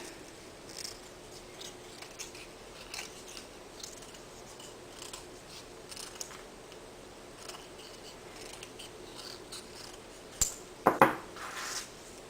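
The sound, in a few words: scissors trimming extra paper off a washer necklace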